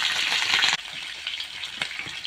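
Cumin seeds and green chillies sizzle loudly in hot oil for mutton spleen fry, then drop to a softer, steady crackle with a few pops close by.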